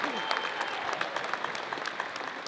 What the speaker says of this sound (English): Let's celebrate all nominees and winners with a round of applause on this beautiful night.